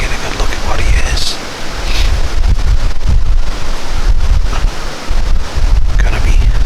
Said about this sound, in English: Maybe this wind will die down some right before dark.